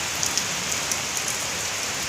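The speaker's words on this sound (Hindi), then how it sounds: "आज हमारे यहाँ बहुत ज़्यादा बारिश हो रही है" Heavy rain pours down in a steady, dense hiss, with scattered drops pattering close by on a surface and no voices.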